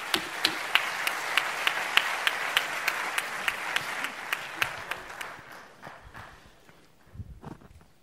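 Dense applause fills a conference hall for the Faconauto president, Jaime Roures, at an automotive industry round table with ANFAC, ANIACAM and ASNEF. Crisp individual claps stand out at first, then the clapping thins and fades away after about five seconds.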